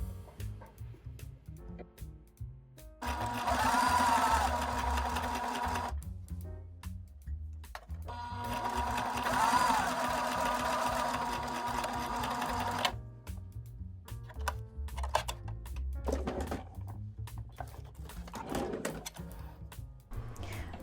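A sewing machine stitches a seam on a vintage Little Darlings dress in two sustained runs of rapid, even whirring, each about four to six seconds, separated by quieter handling and fabric rustle nearby.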